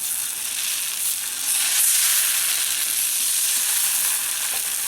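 Fermented dosa batter spread in a circle on a hot pan gives off a steady, bright, crackling sizzle that swells slightly partway through and holds close and clear, with no voices.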